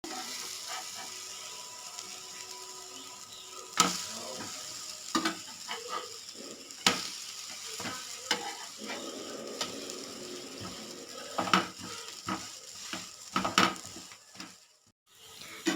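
A bread omelette, egg and bread in the roadside style, frying in a pan, with a steady sizzle broken by sharp clicks and clatters of utensils. No one speaks.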